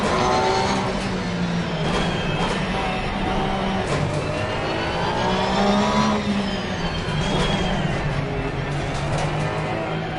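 A race car engine in the video game Assetto Corsa Competizione roars loud and steady, climbing and dropping in pitch through gear changes with a buzzing, high-revving tone throughout.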